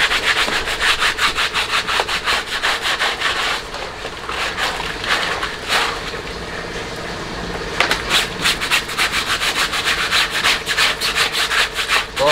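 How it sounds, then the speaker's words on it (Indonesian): A backpack being scrubbed with a brush during washing, giving loud, steady rhythmic rubbing strokes close up, with a brief pause before the scrubbing resumes. "Seperti ini kita gosok lagi."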